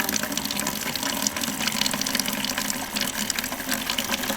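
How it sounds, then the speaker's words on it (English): Water pouring steadily through a ceramic water filter into a clean bucket outdoors, a constant close splashing gush with no breaks and no talk. "I got a clean bucket here, so it's coming through that ceramic filter"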